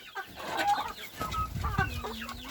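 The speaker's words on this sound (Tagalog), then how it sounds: "Ayan dito yung mga manok natin oh." Chickens and turkeys on a Filipino farm clucking steadily at close range as they wait hungrily for their late feed, overlapping calls rising and falling with no talk.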